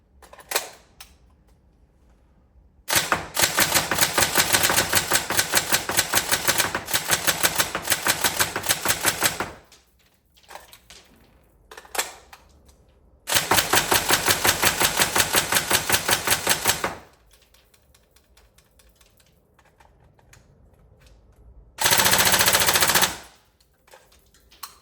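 A Tokyo Marui 416 NGRS airsoft electric gun fires in long rapid full-auto bursts, a fast mechanical rattle close by, with a few short single shots and a final brief burst between quiet gaps.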